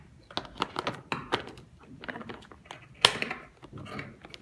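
Not-very-sharp scissors cut through fabric to a pinned pattern, giving dense, irregular snipping and crunching clicks close by, with no talking.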